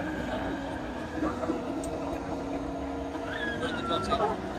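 Metro train in Malaysia rolling along after leaving the platform, heard from inside the carriage: a steady low hum and rumble with a rising electric whine toward the end, fairly quiet and even.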